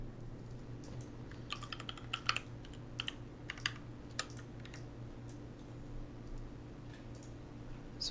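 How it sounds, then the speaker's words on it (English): Someone types an email address on a computer keyboard, with irregular bursts of quiet, close key clicks over a low steady hum, pausing briefly between short runs of keystrokes. "I'll just type it on my browser"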